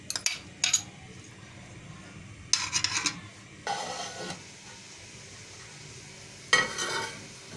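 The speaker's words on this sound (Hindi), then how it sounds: "फ्राई पैन में 2 टेबल स्पून ऑयल लें और जो चिकन थी हमारी उसको फ्राई कर लें" Chicken fries in two tablespoons of oil in a frying pan, with soft sizzling under scattered sharp scraping and clinking bursts of stirring, close and fairly quiet.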